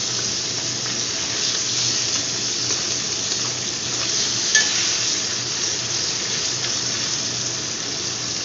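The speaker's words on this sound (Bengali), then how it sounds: "মাছগুলো একটু আমি ভাজতে দেবো" Bata fish frying in hot oil gives a steady, close sizzle and hiss that holds evenly throughout, with one brief crackle near the middle and no voices.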